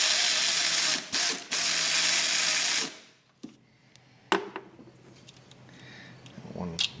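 Hand ratchet working loose the coil bracket fasteners on a Pontiac Grand Prix 3.8 V6, with a fast, loud clicking run lasting about three seconds, broken by two brief pauses, followed by quieter clanks of tools and parts.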